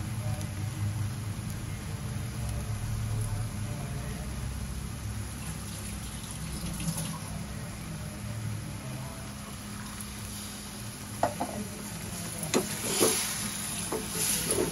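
Konkani-style chicken frying in a pan as a little water is added and the pieces are stirred, giving a low steady sizzle with soft scraping and stirring that sharpens toward the end.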